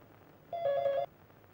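A telephone rings once in a single short, bright electronic burst, close and clear against a quiet room.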